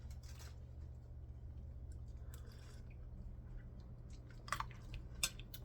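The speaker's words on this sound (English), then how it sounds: "I just want to taste the liquid and the cucumber and see how it is." Someone chewing a sweet-and-sour cucumber salad in vinegary liquid while tasting it: quiet, close wet crunching and squishing over a low hum, with a couple of sharper crisp bites near the end.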